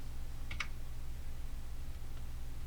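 A few quick clicks of keys being typed on a computer keyboard, entering a timecode and pressing enter, close by and faint over a steady low hum.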